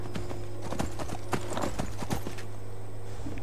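A horse in the video game Skyrim, hooves clip-clopping in a quick irregular rhythm over a steady low hum, close and clear with no talking.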